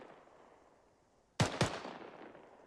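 Two rifle shots fire in a quick double tap in rapid fire mode in the video game Arma 3, sharp and loud after a quiet stretch, with a short echoing tail.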